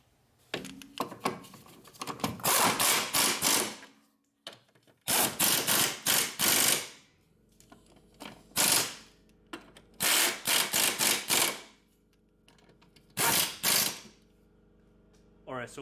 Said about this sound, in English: now we're gonna tighten these 4 bolts.